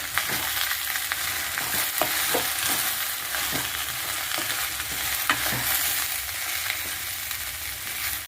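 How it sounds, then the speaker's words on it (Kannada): Okra frying in about two spoons of oil in a pan, a steady dense sizzle with scattered crackles and occasional stirring scrapes, close and continuous, no voices. "ಅದಕ್ಕೊಂದು 2 ಸ್ಪೂನು ಎಣ್ಣೆ ಹಾಕ್ಕೋಬೇಕು. ಎಣ್ಣೆ ಹಾಕ್ಕೊಂಡು ಚೆನ್ನಾಗಿ ಹುರ್ಕೋಬೇಕು."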